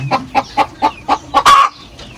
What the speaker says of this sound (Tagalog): Ito na yung ating mga alagang manok katambayan.